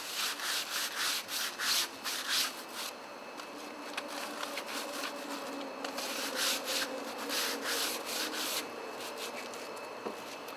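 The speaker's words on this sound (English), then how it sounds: "take some fine sandpaper and just go ahead and rub this all over the handle lightly" Fine sandpaper lightly rubbing over a wooden garden tool handle, giving soft, repeated scratchy strokes in a steady back-and-forth rhythm, close up and fairly quiet, with no talk.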